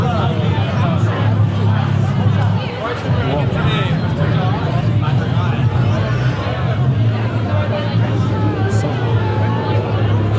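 Dense crowd hubbub on Church Street in Toronto after the Pride festival, a steady wash of overlapping voices and chatter filling the street continuously, with no single speaker standing out.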